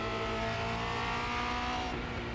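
A Formula Renault 2.0 race car at Charlotte Motor Speedway Roval drones loudly and continuously up close, its engine note shifting as it brakes and drops down through the gears, with no talking.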